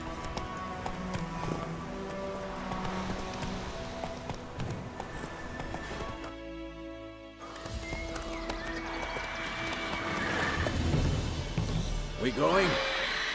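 Galloping horse hooves in The Witcher 3: Wild Hunt, a steady rhythmic clip-clop with whinnies, running close under game voices and other in-game sounds.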